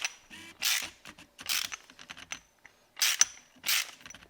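Ratchet wrench with a 17 mm deep well socket and extension tightening a rearset footpeg bolt on a Yamaha FZ/MT-07 motorcycle, giving close, crisp clicking in short repeated bursts between quieter taps, with no talk.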